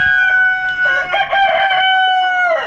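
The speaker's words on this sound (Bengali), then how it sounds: "এই মুরগির খুব শব্দ ভাই কেউ বিরক্ত হবেন না" A rooster crows loudly and close by on a poultry farm, a long drawn-out call with hens clucking around it.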